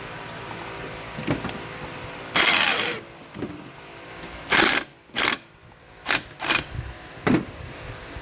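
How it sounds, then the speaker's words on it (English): A cordless impact wrench fires in short, loud bursts, one longer run early and then several quick separate rattling hits with quiet gaps between them. "let's get out our trusty impact"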